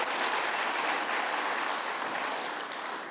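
A Kenyan political rally crowd in Tharaka Nithi applauds steadily, a dense wash of many hands clapping at full, even loudness for about three seconds with no voices over it.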